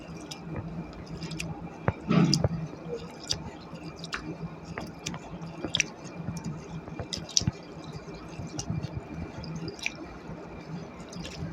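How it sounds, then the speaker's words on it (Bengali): Gobindobhog rice being rinsed in water by hand, with soft wet squishing, swishing and irregular drips and splashes at close range, one louder slosh early on, no one talking. "চালটা আমি ধুয়ে নিচ্ছি।"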